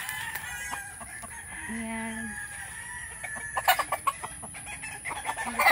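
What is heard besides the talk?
chickens (fighting cocks) clucking on a farm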